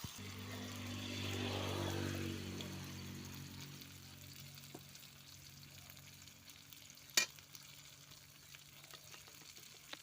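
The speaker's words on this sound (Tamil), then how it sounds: "வெங்காயம் நல்லா வதக்கிடுச்சு அது கூடவே மசாலா சேர்த்து போய் வதக்கி விட்டுருக்காரு" Onions and masala sizzle and fry in a pan for an eggplant stir-fry, loudest at first and then settling to a quieter crackle, with a sharp clink of a utensil partway through.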